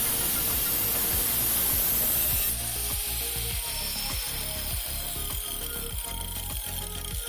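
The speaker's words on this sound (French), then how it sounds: "Je vais maintenant découper le tube de chaque côté à la même longueur." Cutting a metal tube to length for a Tianxun TX-850 metal detector, heard as a steady series of rhythmic rasping strokes, close and fairly loud, with a brighter hiss in the opening seconds.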